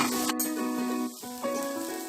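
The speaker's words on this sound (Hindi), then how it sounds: "इसको हम 3 से 4 मिनट तक भून लेंगे" Green pea kachori stuffing frying in a pan, giving a soft sizzle beneath a steady sustained tone, with a couple of brief dips in level and no voices.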